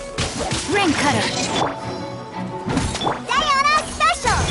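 The Rain Cutter sword skill in Genshin Impact: repeated sharp whooshing slashes and splashy impacts, loud and busy, with a voice talking over parts of it.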